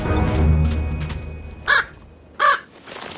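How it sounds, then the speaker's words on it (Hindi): A crow caws twice loudly and close by, two sharp separate calls over a low rumbling background. "पास में एक कौवा छिपा हुआ है जो जोर जोर से कांव कांव कर रहा है"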